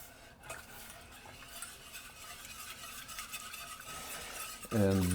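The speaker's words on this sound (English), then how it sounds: "we're going to cool this off by adding a ½ cup of whole milk. Whisk that in." Whole milk being whisked into a pan of warm mixture for Japanese milk bread rolls, a soft steady scraping stir with faint utensil clinks, ending in a louder clatter near the close.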